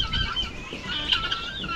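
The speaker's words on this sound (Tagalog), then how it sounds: "magkalat naman dito yung ating mga manok" Farm chickens wandering about outdoors, giving steady mid-level clucks and a few sharper honk-like calls, several birds close by with no talking over them.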